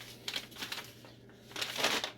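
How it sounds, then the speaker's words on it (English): A brown paper sack rustles and crinkles in two bursts of handling, close by and fairly loud, used for ripening green tomatoes on a farm. "Brown paper sack."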